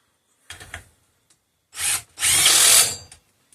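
A power tool drives a socket on a seized air compressor pump, with a short burst, a pause, then a longer sustained run of harsh high whirring and rattling close by, alone without talk.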